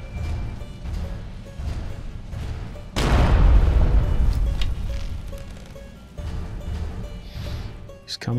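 A time bomb spell detonating in Skyrim, a single loud booming blast with a rumbling decay over steady background game sound and lighter effects.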